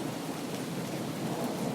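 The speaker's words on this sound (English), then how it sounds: "With the rain pouring down around them, and thunder rumbling in the distance" Heavy rain pours down steadily during a thunderstorm while thunder rumbles in the distance, forming a dense continuous wash of sound with no voices.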